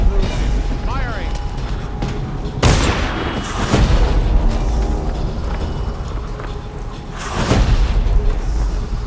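Booming cannon or artillery blasts in the video game Dishonored, two heavy shots a few seconds apart over a noisy battle scene with shouted voices.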